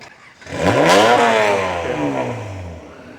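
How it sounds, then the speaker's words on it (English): A vintage car engine revs up sharply, rising in pitch and then slowly winding down, loud and close with a rough, throaty tone, at a car show. "You heard him revving it up a little bit?"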